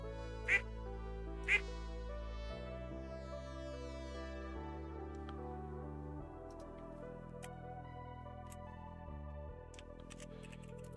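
Ducks in the Stardew Valley video game give two short, sharp quacks early on, set against steady game background music with no talking.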